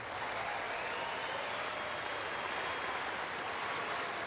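A crowd applauds the champion at the 2013 Sydney International tennis trophy ceremony with steady, dense clapping that stays even and sustained throughout, moderately loud.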